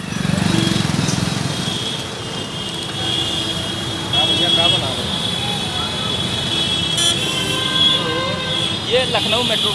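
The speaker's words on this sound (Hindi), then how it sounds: "ये लखनऊ मेट्रो गुजर रही इधर से" A Lucknow Metro train passes on a city roadside, its rolling rumble and squealing wheels mixed with steady urban traffic noise and a person talking.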